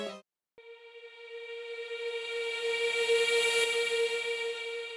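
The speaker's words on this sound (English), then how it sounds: "For the effects, I used the vocal reverse sound, made a unique sample from it, and reversed it to achieve this sound." A reversed vocal sample used as an effect in a stutter house track: after a short clipped fragment and a brief gap, a sustained harmonic vocal tone swells steadily louder over several seconds, heard alone without talk.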